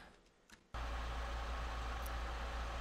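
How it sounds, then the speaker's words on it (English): A truck engine idling outside gives a low, steady rumble continuously after a brief quiet moment with faint sounds. "It was actually my truck that was actually idling outside"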